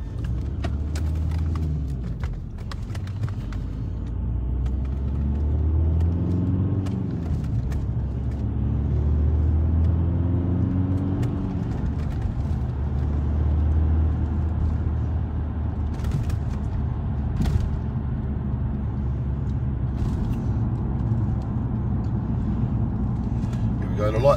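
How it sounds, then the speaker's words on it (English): A car drives slowly along a road at night, passing Christmas lights near a fire station. Its low engine rumble runs steadily throughout, with occasional voices over it. "Let me just drive you up here a little bit."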